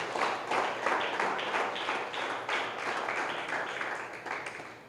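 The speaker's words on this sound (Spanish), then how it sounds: "Alguien le da un aplauso a Jesús de gratitud." Congregation applause of gratitude at a church gospel service, a steady wash of many hands clapping for about five seconds, fairly distant and moderately loud with no talk over it.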